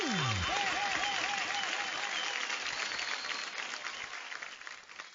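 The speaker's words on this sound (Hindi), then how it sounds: "आशीष के लिए जोरदार तालियां हो जाए।" A studio audience on the Indian Idol singing show bursts into loud, sustained applause and cheering right after a short musical sting, the clapping filling the room and slowly thinning toward the end.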